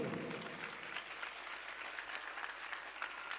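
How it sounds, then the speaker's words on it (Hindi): An audience claps continuously for a few seconds, a dense, even patter of many hands at moderate distance, with no voices standing out. "तालियां कमजोर है"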